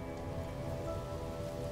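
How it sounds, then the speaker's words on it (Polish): Steady rain falls in the No Man's Sky video game, a continuous, even hiss of drops with a faint tonal hum beneath, close and moderately quiet throughout. "O kurczę, pada."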